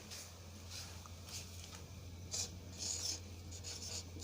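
A pen scratches across paper in short strokes with small pauses, quiet and close, against a faint steady background hum.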